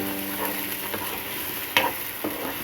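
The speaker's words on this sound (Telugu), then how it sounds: "ఇప్పుడు పాలకూర పేస్ట్ని చేసుకున్న పేస్ట్ని ఇలా వేసి తిప్పటమేనండి" Spinach paste is stirred in a hot cooking pan over high flame. Steady loud sizzling runs throughout, broken by a few sharper scraping stirs, with no voices.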